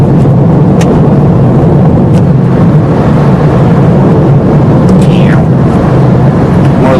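A car rolls over a loose gravel road, giving a steady, loud rumble of tyre crunch and road noise throughout, with no voices.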